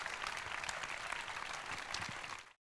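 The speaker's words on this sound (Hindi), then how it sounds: "ओके, जोरदार तालियां।" Loud crowd applause at a Rajasthan yatra gathering: a dense, continuous wash of many hands clapping together for a couple of seconds before cutting off.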